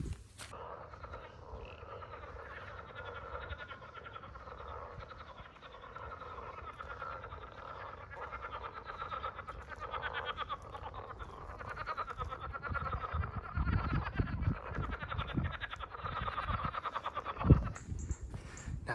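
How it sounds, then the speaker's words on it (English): Chorus of frogs croaking at ponds along a trail in Hagerman National Wildlife Refuge: a dense, continuous overlapping croaking drone, steady and moderately loud, with some low wind rumble creeping in later. "that might be the most frogs I've ever heard"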